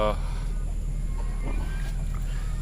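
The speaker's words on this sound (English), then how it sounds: "So you can see the hens." Hens in a caged farm enclosure that also holds rabbits cluck softly and intermittently over a steady low background hum, with no one speaking.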